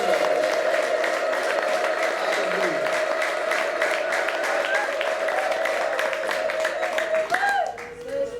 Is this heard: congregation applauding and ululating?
yes